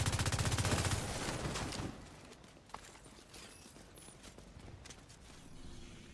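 Rapid bursts of gunfire from The Division 2 video game rattle loudly for about two seconds, then give way to quieter scattered in-game noise with a single sharp crack afterward.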